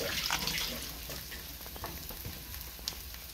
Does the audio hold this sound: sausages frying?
yes